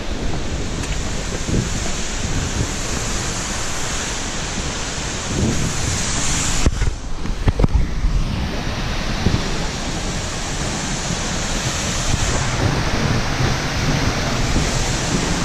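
An Icelandic waterfall roars as a dense, constant wash of falling water, heard close up and loud throughout with no talking.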